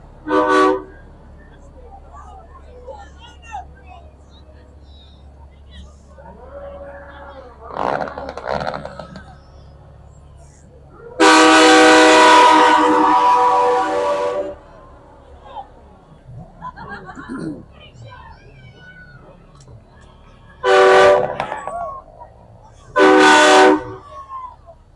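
Air horns on big rig tractors bobtailing through a lighted Christmas parade blare loud and close in three long, train-like blasts, with street crowd chatter and voices between them.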